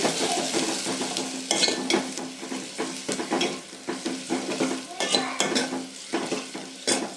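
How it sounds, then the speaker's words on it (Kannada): Onion, garlic, curry leaves and green chillies fry in oil for a cumin-pepper rasam, a steady sizzle broken by repeated spoon scrapes and clinks against the pan, close and fairly loud with no talking. "ಇದು ಎಣ್ಣೆಯಲ್ಲಿ ನೀಟು ಫ್ರೈ ಆಗಬೇಕು ಈರುಳ್ಳಿ ಬೆಳ್ಳುಳ್ಳಿ ಕರಿಬೇವಿನ ಸೊಪ್ಪು ಮೆಣಸಿನ್ಕಾಯಿ"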